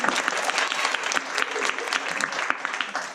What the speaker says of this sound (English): Marissa and Joy, give them a round of applause.